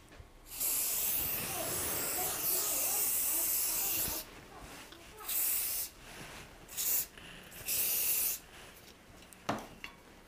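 Set Wet Extreme Hold hair spray is sprayed onto hair close up, starting with one long steady hiss and followed by several shorter bursts and pauses.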